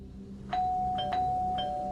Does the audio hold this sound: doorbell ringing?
yes